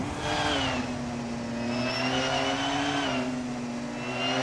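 A 2015 Porsche 919 Hybrid race car in a racing video game at Hungaroring Retro, its engine holding a steady high whine with rising and falling pitch sweeps, loud and close throughout with no talk.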